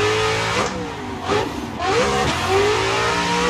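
Car engine in the Assetto Corsa racing game at Meihan, revving hard with rising and falling pitch sweeps and quick shifts, loud and continuous throughout.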